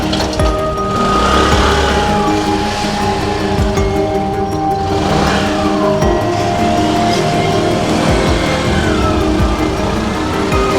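A motorcycle pulls away and rides off, its engine a steady loud drone with rising revs that holds throughout, close by, with no talk over it.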